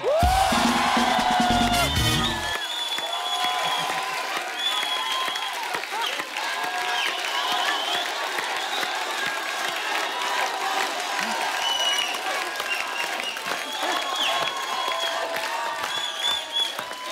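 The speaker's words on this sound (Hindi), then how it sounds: "तो अब हो जाए खुल के तालियां" Studio audience on a Hindi comedy talk show greeting Bollywood star Salman Khan with sustained loud applause and cheering, with whoops over dense clapping that carries steadily from start to finish after a brief opening tone.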